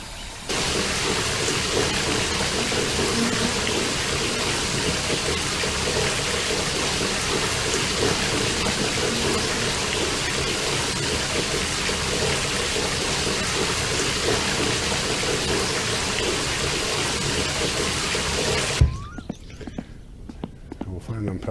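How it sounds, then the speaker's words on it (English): Shower running in the My Summer Car video game, a steady dense hiss of spraying water that holds for about nineteen seconds before cutting off, followed by a few faint knocks. "So we'll have a shower, quick shower,"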